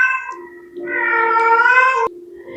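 Up close, a pet cat lets out a long, drawn-out meow that starts softly, swells into a loud wavering yowl, then cuts to a lower trailing note.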